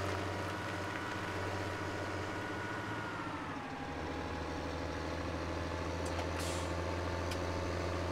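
A truck engine in Farming Simulator 17 drones steadily while the vehicle backs out, a loud continuous low rumble with a brief shift in pitch partway through and faint clicks near the end.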